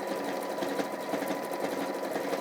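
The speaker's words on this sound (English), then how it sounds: "I am removing the pins as I sew now this time" A home sewing machine runs a decorative stitch through fabric, a steady fast mechanical whirr and chatter that holds at an even, close level throughout.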